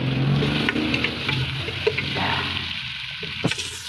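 Tomatoes sauté in a pan for pork sinigang, giving a steady close sizzle with stirring scrapes and a few sharp clicks, with no speech.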